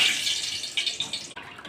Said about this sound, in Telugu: ఒక గ్లాస్ ఆఫ్ వాటర్ వేసుకుందామండి